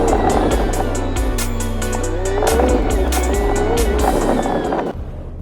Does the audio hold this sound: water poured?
no